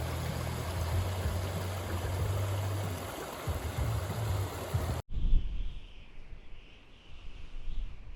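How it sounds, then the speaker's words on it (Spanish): A river running along the town streets of Bariloche gives a steady rushing wash of water for about five seconds, then cuts abruptly to a quieter, thinner outdoor ambience. "que pasa el río en las calles, todo largo. Entonces crea como un sonido muy rico"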